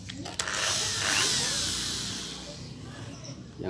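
Electric drill whirring steadily while holding a cracked gun barrel, a close continuous high whine that rises and then eases slightly over a few seconds, with a brief knock near the start.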